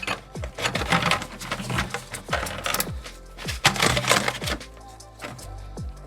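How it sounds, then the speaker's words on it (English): A wrench works the oil filter loose on a Chevy SSR, giving a series of sharp metallic clicks and ratcheting taps at an irregular pace, close and moderately loud, with no talk. "So let's get the oil filter off."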